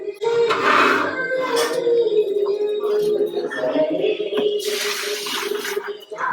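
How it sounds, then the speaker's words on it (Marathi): Hot water pours and splashes steadily from a tap during Konkan Gauri festival preparations, a loud, close rushing stream with a tonal hum beneath and surges of splashing, while other sounds murmur faintly in the background. "आता चोवीस तास रांगोळीचं पाणी काढतोय गरम गरम"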